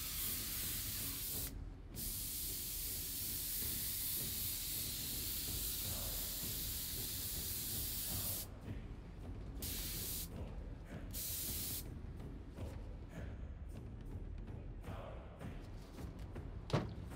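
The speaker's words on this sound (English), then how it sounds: "if you could get a chance to use the spray gun" Spray gun spraying resin onto leather armour, a loud steady hiss in long bursts with short pauses between passes, ending with a faint thump, no talking.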